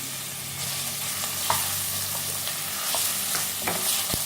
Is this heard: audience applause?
no